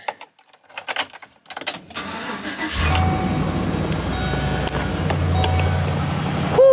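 A GMC Savana 4x4 extended van cranks after some faint handling clicks, then its engine fires and settles into a steady, rumbling idle nearby, with no voices.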